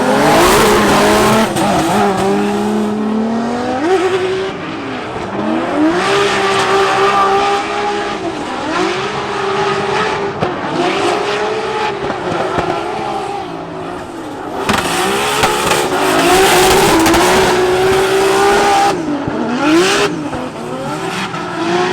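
Formula Drift car running on nitrous at the Orlando event, engine revving hard and rising through gears with tire squeal, loud and close throughout, with no talking.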